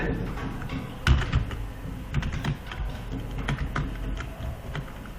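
Rapid clicking keystrokes on a computer keyboard typing out the word outsourcing, an uneven run of close taps with a few heavier presses and short pauses between bursts.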